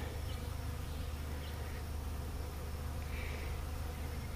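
Bees hum steadily around a trap box where a new colony is building up, a dense continuous drone with a few individual buzzes briefly passing closer.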